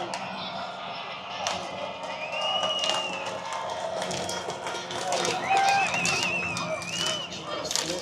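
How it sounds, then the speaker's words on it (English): A crowd at a World Cup fan zone swells with rising cheers and shouts, whistles and sharp claps cutting through, growing louder toward the middle while a commentator talks over the noise. "Listen to the crowd come to life here"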